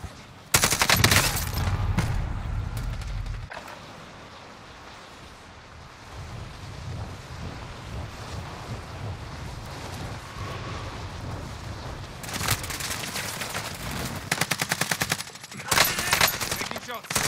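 Video game gunfire in sharp, dense bursts of rapid shots, loud at the start and again near the end, with quieter rumbling ambience in between.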